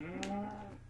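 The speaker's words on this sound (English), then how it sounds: "Shut up, cow. We don't need you right now." A cow mooing in Minecraft, one short low moo heard alone and fairly clear against a quiet game background.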